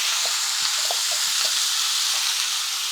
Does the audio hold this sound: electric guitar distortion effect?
no